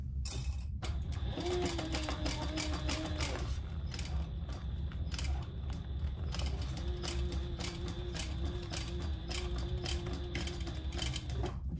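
A sewing machine stitches continuously around the bottom corner of a toiletry cosmetic bag, a close, loud, rattling mechanical chatter with brief pauses and faint motor whine.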